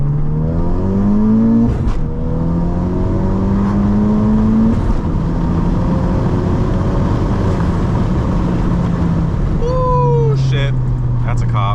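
A Honda Civic Type R engine pulls hard in second gear around 3,500 rpm, a loud sustained rising drone heard from inside the car, with a brief shift-like dip near the end.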